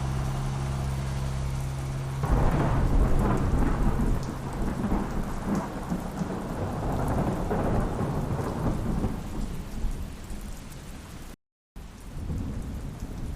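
Steady heavy rain pours down with deep rumbling thunder rolling underneath, loud and continuous, with a brief dropout near the end.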